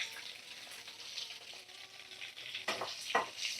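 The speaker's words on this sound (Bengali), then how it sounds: "তো চলো আলুগুলো ভাজা করে নিই" Large chunks of potato frying in oil left with turmeric and salt from frying chicken, a faint steady sizzle with a couple of louder bursts near the end as pieces are stirred.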